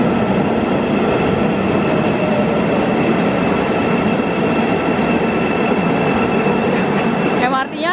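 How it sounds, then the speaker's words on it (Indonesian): A Seoul subway train carries riders near Myeongdong, its steady loud rumble and rolling hum filling the whole stretch with a faint high whine, before a brief squeaking shift near the end. "MRT-nya Singapura banget sih."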